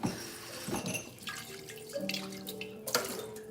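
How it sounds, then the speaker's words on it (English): Tap water runs into a flower vase with a straw bow as it is rinsed at a sink, a steady close splashing stream with shifting gurgles and drips. "And I'm gonna rinse it real quick."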